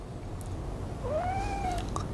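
A sick cat, weakened by a viral infection, gives a single drawn-out, plaintive meow over a soft background hiss, faint and close by.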